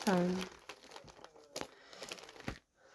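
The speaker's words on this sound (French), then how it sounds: "je vais chercher mon classeur, mon push-in" A ring binder is fetched and handled, giving crinkling and rustling of paper and plastic sleeves with a few sharp taps. A voice sounds briefly at the start.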